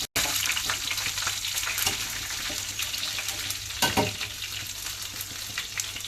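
Mustard seeds, dried curry leaves and ripe green chilies sizzle in hot oil with a bright, crackling hiss. Scattered pops and a few louder spits rise above the close, continuous frying.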